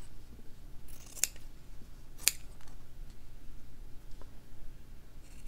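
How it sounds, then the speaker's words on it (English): Scissors snip through fabric while cutting out two handles for a slow-stitching project, heard as two brief, crisp cuts about a second apart against a quiet room. "So now I'll cut out my two handles here,"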